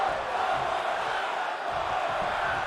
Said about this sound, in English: The crowd yelling one more time.